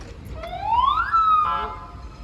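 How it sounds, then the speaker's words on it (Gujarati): An emergency siren with a rising tone that then holds steady, loud and passing close by over faint street noise; the source is an ambulance. "એમ્બ્યુલન્સ આવી"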